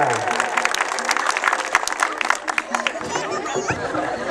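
Crowd clapping and cheering at a village fiesta for a street-paving inauguration in Palestina de los Altos, dense sustained applause with chatter mixed in, thinning slightly toward the end.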